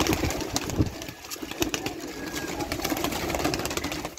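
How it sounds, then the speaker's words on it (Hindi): Flying pigeons on the rooftop of an old haveli in Jhelum city, with soft cooing and fluttering set against a steady bed of outdoor background noise throughout. "हवेली वाली छत आए जे जिथे उड्डण वाले कबूतर ने माशाल्लाह।"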